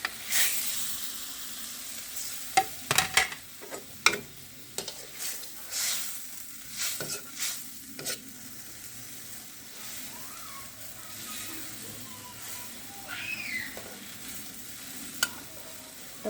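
A pot of mustard hilsa fish curry simmering with soft bubbling and hiss, broken by scattered clinks and scrapes of a utensil against the pan.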